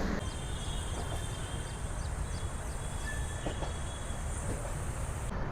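An Amrit Bharat Express train rolls through Warangal railway station with a steady, close rumble of wheels on rails, a high metallic squeal drawn out above it.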